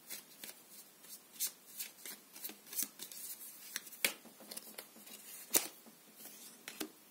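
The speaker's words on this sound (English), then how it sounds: "Let's get one more card." Tarot cards are shuffled and drawn in quick, close riffles and flicks, a run of sharp papery bursts at an uneven rhythm against a quiet background, with no talking.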